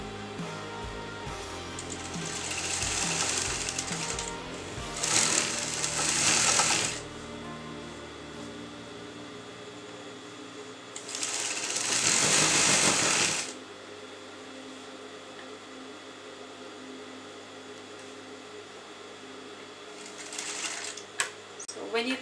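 Sewing machine stitching a kurta pocket in fabric, running in three separate bursts of a few seconds each, loud and close, with quiet gaps between.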